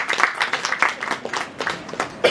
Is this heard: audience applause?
yes